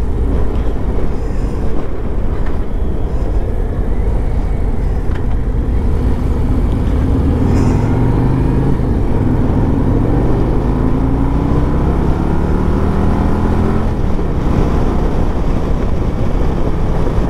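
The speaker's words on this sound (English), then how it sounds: "I just put in sport mode and rolled the throttle, and it did pull me back just a little bit." A Harley-Davidson Road Glide touring motorcycle, 2023 or 2024 model, in sport mode pulling hard through the gears on the road: a loud, deep engine drone that rises in pitch as it accelerates and shifts, heard alone over wind rush.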